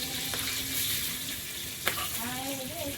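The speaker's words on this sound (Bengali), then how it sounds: "সব ভেজে নিয়েছি এবার চালটা দেবো" Rice added to a hot frying pan for pulao gives a steady, close sizzle with a sharp clatter partway through; faint background tones and voice-like sounds sit under the frying.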